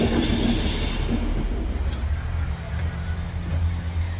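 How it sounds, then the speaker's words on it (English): Two-carriage train pulling away from a station, a loud rumble with squealing wheels that gradually fades. "the train we came up here is just setting off"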